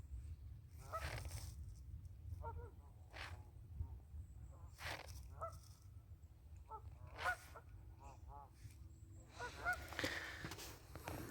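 A swan on a river gives repeated goose-like honking calls in short bursts at a moderate distance, spread across a steady low background rumble of flowing water or a motor.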